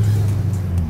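A Lexus IS 200 fitted with a V8 engine produces a deep, steady rumble with a strong low drone, heard close and loud over a brief stretch.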